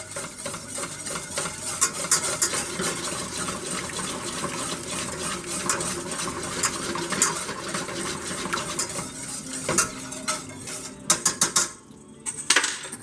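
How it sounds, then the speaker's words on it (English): A whisk clinks steadily against a metal pan while butter is worked into a seasoned sauce with Worcestershire, a busy stream of small taps and scrapes in a kitchen, ending in a few sharper knocks. "Finish whisking in that butter."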